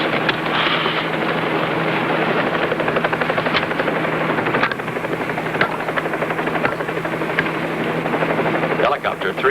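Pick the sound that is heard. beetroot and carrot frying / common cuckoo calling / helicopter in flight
helicopter in flight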